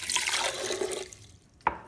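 Water poured into a cup to make a shake: a steady splashing pour runs for about a second, then fades, followed by one short splash or drip near the end, close and fairly quiet.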